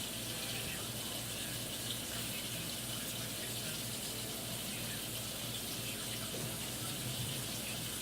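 Water runs steadily from a kitchen tap while a homemade hair conditioner is being prepared, a continuous close hiss and gush with no talking.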